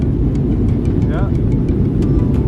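Steady low road rumble and engine drone from inside a car moving at speed, loud and continuous, with brief faint chirps and tones above it.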